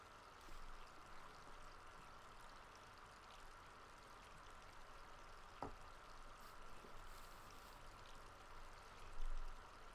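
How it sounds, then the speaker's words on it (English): Running water from a tap or stream gives a steady, faint rushing hiss throughout, with a small click partway and a brief louder splash near the end, no voices. "The water is pretty loud."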